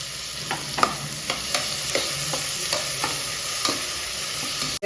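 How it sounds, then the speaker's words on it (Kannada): Tomatoes and onions frying in a pan for vegetable pulao give a constant sizzle, broken by repeated sharp clicks and scrapes from stirring. "ಟೊಮೊಟೊ ಹಾಕ್ತಾ ಇದ್ದೀನಿ, ಬಾಡ್ಸೋದು ಈರುಳ್ಳಿ ಟೊಮೊಟೊ ಹಾಕ್ತಾ ಇದ್ದೀನಿ."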